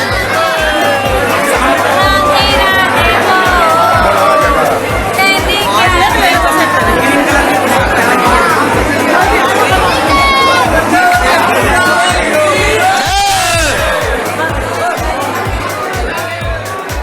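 Dense crowd packed inside the Banke Bihari temple in Vrindavan, loud continuous chatter and overlapping voices with shouts and calls rising throughout, a constant close-up hubbub with a low rhythmic hum underneath.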